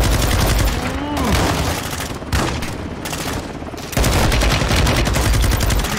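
Gunfire from Call of Duty: Modern Warfare 2 crackles in dense overlapping bursts, loud and continuous, with brief lulls between volleys in a desert battle.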